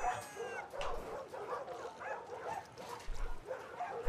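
The dog in The Last of Us Part II gives soft yips, whimpers and small barks in an uneven string over a steady background hum, with faint speech mixed in.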